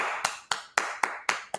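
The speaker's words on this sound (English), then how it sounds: "Hey, give them a round of applause," One person's hand claps, six crisp, close strikes in a steady rhythm about a quarter second apart, each fading quickly into a quiet room.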